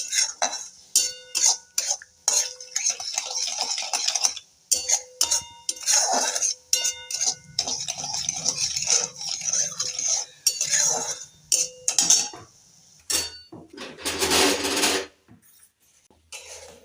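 Metal spoon scraping and clinking around a pan of sugar syrup being stirred for Mysore pak, a steady run of close, sharp taps and scrapes with brief pauses and a softer rustling stretch near the end.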